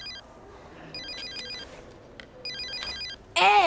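A mobile phone rings in repeated short electronic trilling bursts, fairly faint, followed by a sudden louder noise at the end.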